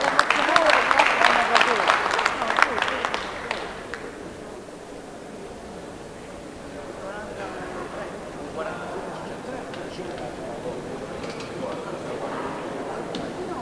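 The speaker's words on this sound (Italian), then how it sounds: "Un applauso." Audience applause rings out at an Italian weightlifting championship in Afragola after a women's squat lift, loud and dense at first, then thinning to a low murmur of crowd and scattered sound.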